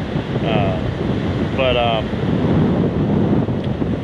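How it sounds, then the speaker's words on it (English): Constant low rumbling wind gusting around 15 miles an hour on a beach buffets the microphone up close, a heavy roaring rush with a couple of brief faint tonal fragments on top. "All of a sudden the wind's just gusting in my face while I'm trying to do this outro."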